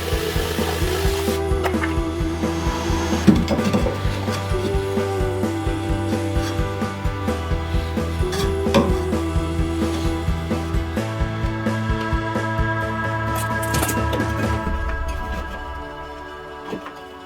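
A battery-powered jigsaw cuts a curved shape out of wood for a bike rack, a loud close buzzing with a rapid rhythmic chatter of the blade that runs nearly continuously before winding down at the end.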